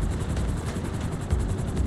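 A helicopter in GTA Online gives a continuous close rotor chop and low engine rumble, steady and loud for the whole short stretch.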